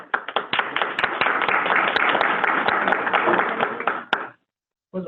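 Brisk applause from a small group at a school board organizational meeting after a member's swearing-in, close and fairly loud, lasting about four seconds before stopping abruptly, then a brief resumption of sound.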